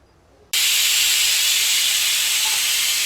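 Pressure cooker whistle while guvar (cluster beans) cook on the stove, starting abruptly after a short quiet moment and then holding as a loud, steady, high hiss to the end.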